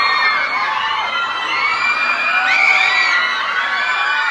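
A high school crowd shouts, cheers and whoops nonstop during an intramurals pageant, dense and loud with shrill young voices layered together, near and continuous throughout.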